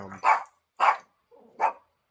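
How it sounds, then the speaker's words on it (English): A dog barks three times in separate sharp bursts, close and loud, with short silent gaps between them. "my dog likes to bark a lot, and I can't control her"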